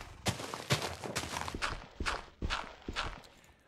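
A horse's hooves clip-clop in an even walking rhythm in the Minecraft video game, about eight crisp close hoofbeats with no voices over them.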